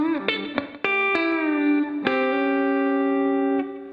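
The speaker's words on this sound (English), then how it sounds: "So this little chicken picking lick sounds a little bluesier than the other one." Slow blues chicken-picking lick on electric guitar, a handful of sharp plucked notes with snappy attacks, some sustained and ringing, played close and alone.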